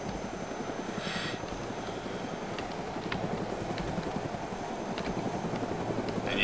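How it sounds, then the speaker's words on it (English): A helicopter in the Arma 2 DayZ video game spins up for takeoff, its steady rotor chop pulsing continuously with engine whine, growing slightly louder toward the end, with no talk over it. "These fucking choppers take forever to take off."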